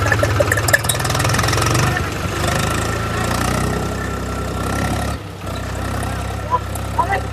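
A tractor engine runs steadily and close by, a continuous low chugging drone in a Gujarati village comedy setting, with people talking over it throughout.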